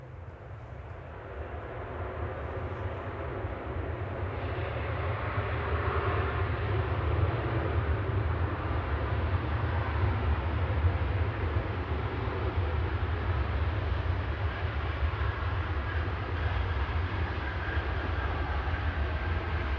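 A Ryanair jet from Dublin at Manchester Airport rumbles steadily on the ground, a broad low engine roar swelling slightly and holding for many seconds at moderate distance.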